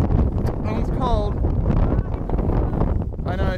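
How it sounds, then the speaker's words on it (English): Loud, gusty wind blasts across the microphone at the top of the Scott Monument in Edinburgh, a constant low rumble with brief faint whistling tones above it. "It's windy."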